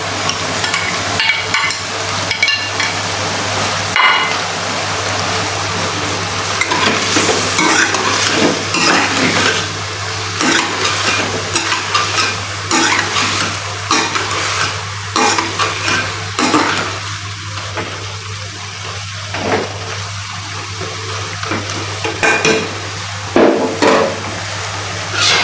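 Potatoes stirring and frying in a pan of chopped aubergine and green chilli paste for an aloo baingan curry, a steady close sizzle with scraping stirs and occasional clinks of utensil on pan throughout.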